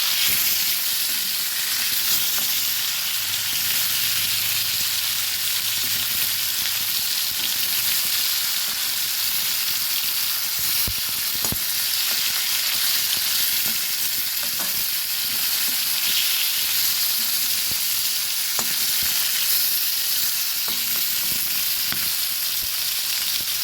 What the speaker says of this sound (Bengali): এবার অপর দিক ভাজতে দিলাম